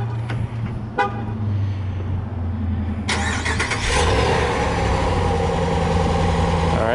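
Ram 1500 pickup truck cranked with the key, a short horn-like chirp and clicks before the engine catches around midway and settles into a steady, close idle.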